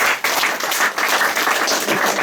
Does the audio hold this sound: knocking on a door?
no